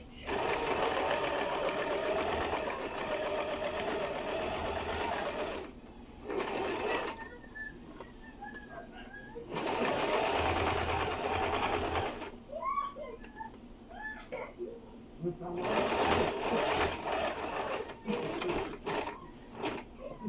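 A sewing machine stitches a skirt seam in several long, steady whirring bursts separated by short pauses, close and clear, with small handling noises in the gaps.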